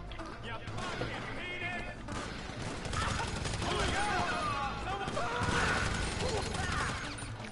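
Gunfire during a video game heist, rapid bursts of shots and clattering impacts over a dense game soundscape, with voices talking over part of it.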